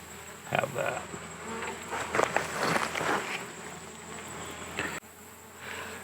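Honeybees buzz around an open hive during feeding, a continuous close drone with individual bees passing near, plus faint shuffling and footsteps.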